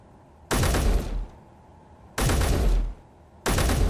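A heavy-recoil gun in the Space Engineers video game fires three loud, sharp booming bursts at irregular intervals, each with a brief rumbling tail, separated by near silence.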